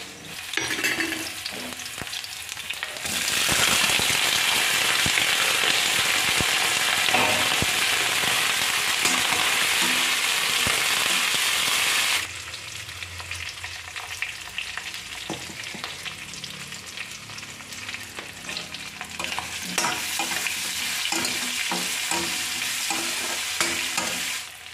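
Pork fries with onions in hot oil in a wok, giving a loud, steady sizzle and crackle that swells and eases as the food is stirred, with no voices.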